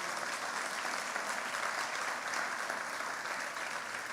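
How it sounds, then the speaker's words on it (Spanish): A church congregation breaks into loud, sustained applause, a dense, steady wash of clapping from many hands filling the room without pause. "denle un fuerte aplauso al Señor"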